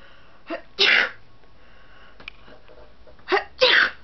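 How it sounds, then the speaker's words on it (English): Two pairs of sharp, breathy fake sneezes, each a short intake followed by a loud burst, close up with quiet pauses between. "I just can fake a really good sneeze"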